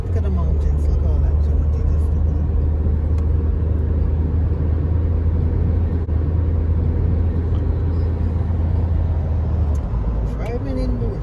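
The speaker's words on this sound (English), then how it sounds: "Driving in Mauritius." A car driving in Mauritius, heard from inside as a steady loud engine and road rumble running throughout, with faint voices in the cabin.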